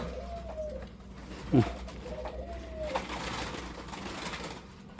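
Birds call outdoors in short clear whistles, with a dove-like coo and a brief louder chirp over a steady low background hum.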